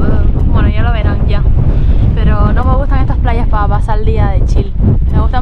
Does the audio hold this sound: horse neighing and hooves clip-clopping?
no